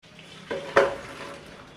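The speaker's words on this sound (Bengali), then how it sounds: "মাছগুলো এবার কষানো হয়ে গেছে," Stinging catfish frying in a pan are stirred, giving two quick scraping clatters of a spoon against the pan over a soft background sizzle, close and brief.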